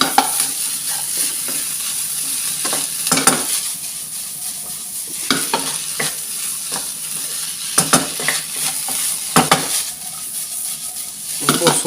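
Fish being stirred into fried rice sizzling in a pan, with steady frying hiss and repeated scraping, clinking strokes of a utensil against the pan, close and alone.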